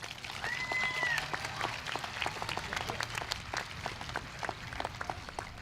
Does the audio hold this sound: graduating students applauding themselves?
yes